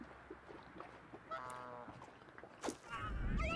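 A goose honks in the video game Knights and Bikes with a few brassy, nasal calls among game sounds, ending in a louder rumbling burst.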